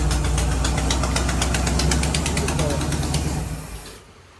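Engine of a 1969 Camaro that sat 36 years runs with a bad exhaust leak, a loud close rumbling idle with rapid ticking pulses, then dropping away as it shuts off near the end.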